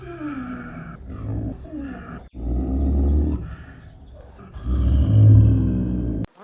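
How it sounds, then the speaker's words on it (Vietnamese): Deep guttural leopard roars and growls come in several rough bursts separated by short breaths, loud and close, with the longest, heaviest roar near the end. "Leopard."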